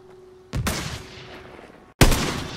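Gunfire in the World War II shooter Call of Duty: WWII, with two loud, close shots about a second and a half apart, each followed by a long rumbling decay.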